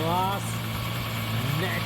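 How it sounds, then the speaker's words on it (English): A Ferrari Purosangue's naturally aspirated V12 idles with a steady low hum and faint vibration, while someone talks over it throughout. "the last naturally aspirated V12"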